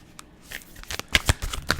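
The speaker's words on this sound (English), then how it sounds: "let's get some cards out." Tarot cards being shuffled by hand, a short run of close, crisp riffling slaps and flutters in quick uneven bursts, with no talking.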